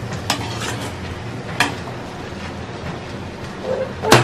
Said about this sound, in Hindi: अब नमक डाल देंगे अपने स्वाद अनुसार, मूंगफली के दाने और आलू जो फ्राई करके रखे थे वो भी डाल देंगे और सारी चीजों को अच्छे से मिला देंगे